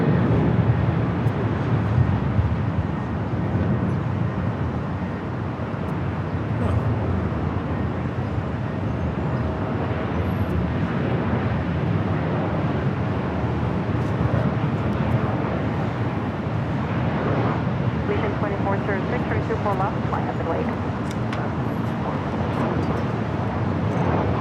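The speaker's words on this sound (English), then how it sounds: "CGM Air Cargo coming in from Mexico City." A CGM Air Cargo plane arriving at LAX from Mexico City gives a continuous broad jet rumble and hiss that stays steady throughout, moderately loud at a distance, with no talking.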